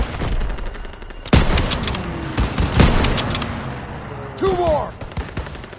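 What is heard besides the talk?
gunfire and machine gun fire in the video game Call of Duty: WWII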